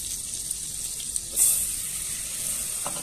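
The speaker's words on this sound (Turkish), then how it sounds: "Şöyle hafif kahverengi bir renk alana kadar kavuruyoruz" Flour roasting in melted butter in a pan, giving a soft continuous sizzle with a brief louder hiss midway and faint scraping, no talking.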